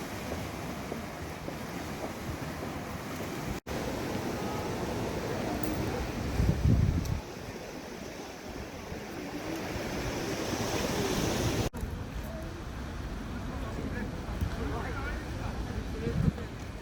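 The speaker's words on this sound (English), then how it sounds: "The relaxing sound of the ocean." Ocean waves wash steadily along the shore at Busan, with a continuous rushing surf and gusts of wind buffeting the microphone. Occasional louder swells rise out of the constant roar.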